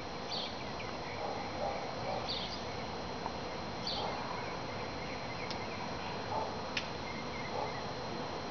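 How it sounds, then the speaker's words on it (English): A honey bee swarm hums as a faint, continuous buzz outdoors, with a few soft thumps and ticks on top and no clear talking. "there's so many bees!"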